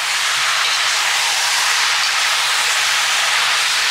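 Pork belly dropped into a pan of softened onions for Filipino menudo, sizzling in a steady, loud, broadband hiss that holds unbroken for the whole stretch.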